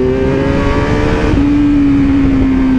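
A motorbike rides off with a loud, steady engine hum close by, its pitch dropping slightly as it shifts midway through the run, no voices heard.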